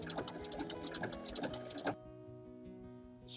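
Sewing machine stitching the folded fabric band of a glasses case, a quick burst of rhythmic mechanical whirring and needle ticks that stops abruptly partway through, leaving quiet room tone.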